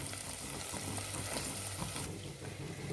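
Ground coconut mixed with water poured into a hot pan for coconut milk rice, a steady close hiss and sizzle with soft liquid splashing throughout.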